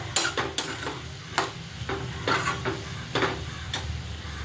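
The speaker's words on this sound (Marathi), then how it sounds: "आता एकजीव करूया तिखटा मिठात" A spoon stirs chopped ivy gourd with chili powder, turmeric and salt in a pan, with repeated scraping clinks of metal against the pan over a low frying sizzle.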